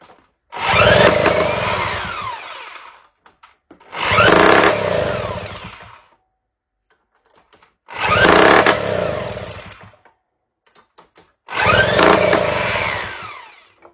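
A Solex moped engine, running short on fuel, is started four times in a row: each attempt brings a loud, close rasping burst of about two seconds that cuts out, with quiet gaps and small clicks between.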